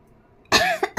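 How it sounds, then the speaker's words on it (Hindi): Person with an illness coughing: one harsh, close cough followed by two shorter hacks after a quiet moment. "खांसी भी हो रही है"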